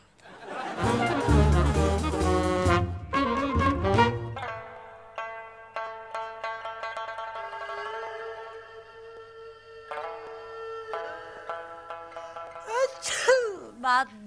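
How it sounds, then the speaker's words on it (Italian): A person with a cold sneezes, with a short burst of sneezes set among music and other cartoonish sounds, fairly loud and close. "Sono due ore che sto starnutendo"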